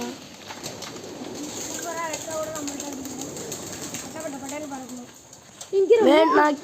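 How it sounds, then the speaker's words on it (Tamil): Pigeons cooing inside a pigeon coop, a steady murmur of soft calls close by, with louder coos near the end and someone talking over them. "இதுக்குள்ளே தான் எல்லா புறாவும் இருக்குது."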